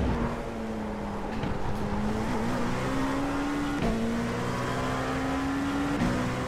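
LMP2 prototype race car at the Red Bull Ring accelerating with traction control cutting in, a loud steady engine drone rising in pitch with brief interruptions as gears change, close onboard and continuous throughout.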